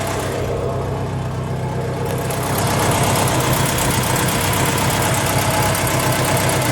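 A 1980 Saab 96 GL's V4 engine idles steadily nearby with a low, even rumble that grows slightly louder partway through, no voices present.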